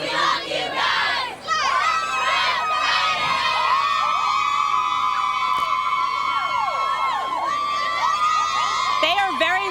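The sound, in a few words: West Mifflin cheerleaders cheering loudly at football game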